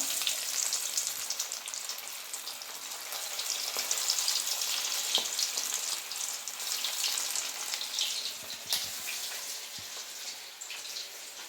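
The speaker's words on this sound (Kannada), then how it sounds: "ಎಣ್ಣೆ ಚೆನ್ನಾಗಿ ಬಿಸಿ ಆಗಿದೆ. ಈಗ ನಾನು ಪೀಸ್ನ ಹಾಕ್ಕೊತಿದ್ದೀನಿ." Chicken leg pieces sizzle and fry in hot oil, a steady dense crackle holding at close range for the whole stretch, with a few sharper pops and clinks and no talking.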